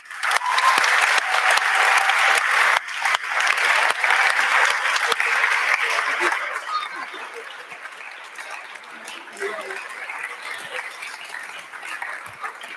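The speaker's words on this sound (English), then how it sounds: "a big round of applause to everyone" Audience at a startup incubator final event gives a loud round of applause that fills the first half, then eases into lighter scattered clapping with faint chuckles and murmurs.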